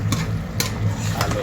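Eggplant and tofu are stirred in a pan for a sweet and spicy dish. A spatula scrapes in a slow, regular rhythm, about twice a second, over a low steady sizzle.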